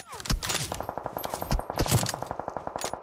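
Rapid automatic gunfire from PUBG Mobile crackles in close, loud bursts with a steady, regular rhythm, backed by busy in-game ambience.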